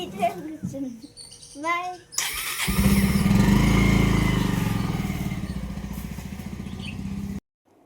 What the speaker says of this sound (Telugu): మా వారు అలా బండి స్టార్ట్ చేశారో లేదో